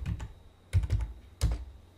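A terminal command is typed on a computer keyboard in three quick clusters of key clicks separated by short pauses, close and fairly quiet, with no talking.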